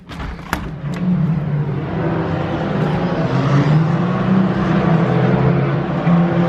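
Formula-style race cars at the Nürburgring roar past one after another in a loud sustained drone with shifting engine pitch, heard from trackside.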